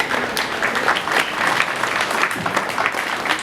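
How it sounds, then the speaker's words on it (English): Steady, full crowd applause fills an arena at a county fair 4-H and FFA meat goat show, honoring the champion and reserve champion, with clapping sustained and even throughout. "Please give our champion and reserve champion another round of applause."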